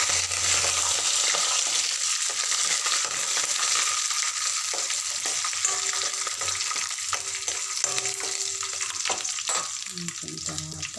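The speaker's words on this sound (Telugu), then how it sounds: "ఇవి వేగిన తర్వాత కరివేపాకు వేస్తున్నాము" Curry leaves sizzle and crackle in hot oil in a pan while an upma is cooked in Rayalaseema style, a loud continuous frying hiss with stirring scrapes and occasional pops.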